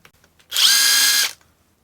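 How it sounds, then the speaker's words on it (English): Klein Tools impact driver giving one loud burst of under a second, driving a slim socket through a pass-through adapter, starting and stopping abruptly with near silence on either side. "you can drive your very slim sockets with"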